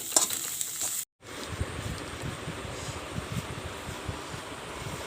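Whole cumin, onion, chopped chilli, garlic paste and ginger paste fry in mustard oil for potato chops, making a soft, steady sizzle with stirring scrapes and a brief cut-out near the start.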